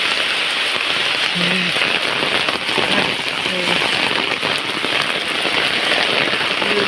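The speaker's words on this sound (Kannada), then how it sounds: "ಜೋರು ಮಳೆ ಬರ್ತಾ ಉಂಟು" Heavy rain pours down steadily, a dense, close hiss of drops drumming on surfaces without pause, with faint voices beneath.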